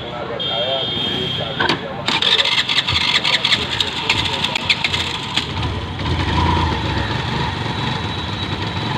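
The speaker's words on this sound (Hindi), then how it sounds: "अभी देख लेते हैं कि बाइक चालू हो रही है कि नहीं हो रही" A stalled motorbike on a roadside being cranked and started, its engine catching and running unevenly in bursts with rapid knocking pulses, then settling into a rough idle, with voices nearby.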